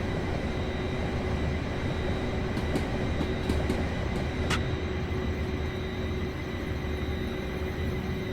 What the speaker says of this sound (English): Got a class 465 going to be passing us here on the right.